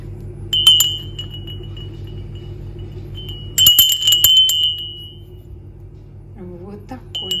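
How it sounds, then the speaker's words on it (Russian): A small hand bell rings in two bright, jingling bursts, the second louder and longer, over a steady low hum, with a brief voice-like sound at the end. "Вот такой вот у меня колокольчик."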